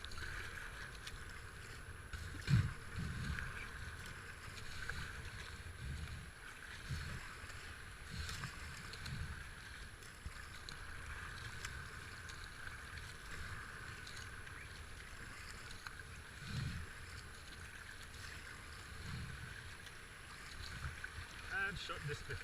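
A small boat on river rapids, with rushing water and wind buffeting the microphone in a continuous faint wash and occasional knocks against the hull.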